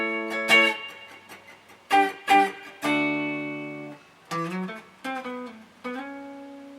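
A guitar picks a single-note fill from the chorus of a song, bright plucked notes in short uneven bursts with brief gaps between phrases, clear and close with no voices.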